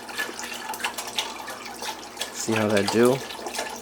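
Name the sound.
filling a pot with tap water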